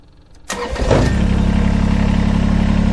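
A Kubota BX23S compact tractor fitted with an LA340 loader cranks briefly and catches, then settles at once into a steady, close diesel idle with an even low throb.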